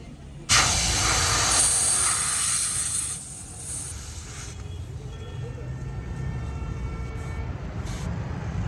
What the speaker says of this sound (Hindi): चलो डल रही है हवा।